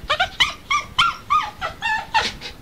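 A dog whimpers and yips in about eight short, close, moderately loud bursts, each a high, nasal whine, with brief gaps between them.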